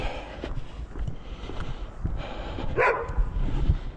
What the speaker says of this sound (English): There's our doggy friend.